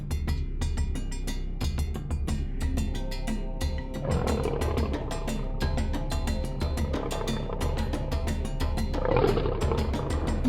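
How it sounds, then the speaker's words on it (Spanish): A lion roars in a children's story, the roar rising over steady rhythmic background music for about ten seconds, with no voices. "¿Has oído el rugido del león así?"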